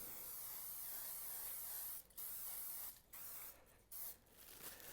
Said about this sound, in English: a little bit of spray, olive oil on there, and I like to coat the grill grate